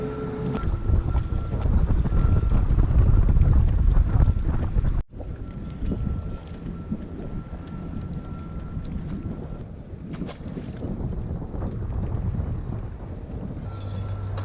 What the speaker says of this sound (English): The wind is too strong and we cannot pull Cloudy around.